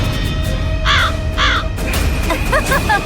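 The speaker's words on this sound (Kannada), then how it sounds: "ಕಾಗೆ ಆ ಕಾಗೆ ದೂರ ಕಳಿಸಿ ಅದನ್ನ." A crow caws loudly and close by, two harsh calls in a row, then a quicker burst of three or four fainter caws, over a dense murmur of background sound and music.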